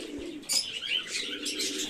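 Pigeons cooing at feeding time, soft close coos with a few chirps and faint wing flutters.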